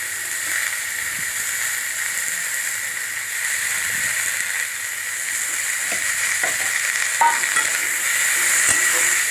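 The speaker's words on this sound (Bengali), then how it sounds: "একটা গোটা টমেটো কুচি করে কেটে ভেজে নিলাম" Steady loud sizzling and hiss of chopped tomato frying with onion and garlic in a pan, continuous and close, with occasional stirring scrapes and no talking.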